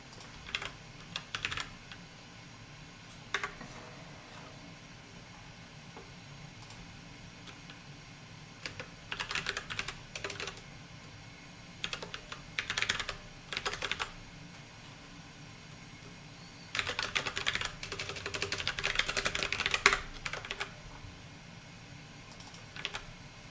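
Someone types on a computer keyboard in quick irregular bursts of soft clicks separated by short pauses, close and fairly quiet against a faint background hiss.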